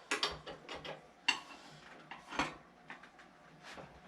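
Crescent wrenches tighten the wheel nuts on a Motobecane Cafe Fixie bicycle, giving a series of faint, close metallic clicks and scrapes in irregular bursts.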